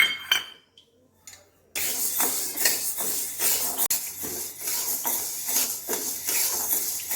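Whole wheat grains dry-roasting in a pan over medium heat give a steady scraping rattle with repeated metallic clinks of a spatula against the pan, starting loudly after a brief quiet, clattering opening.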